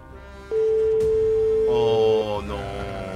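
Telephone ringing during a radio call-in prize draw: a single steady electronic tone held for almost two seconds, loud and close, with studio voices and background sound around it.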